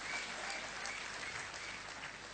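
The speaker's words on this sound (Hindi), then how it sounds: "ताली तो बजाइए, मिलने वाला है।" An audience applauds continuously, a steady wash of clapping from many hands that holds the whole time with no talk over it.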